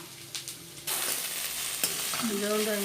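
Drumstick leaves (murungai keerai) sautéing in a pan for kuzhambu, with a steady sizzle and occasional stirring scrapes, close and moderately loud with no talking.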